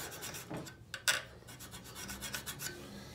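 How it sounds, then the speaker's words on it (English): A copper scraper rasps across the teeth of a metal file in short, uneven strokes, close up and gritty, with a few sharper scrapes standing out. "Then I took my copper scraper that is only used on files."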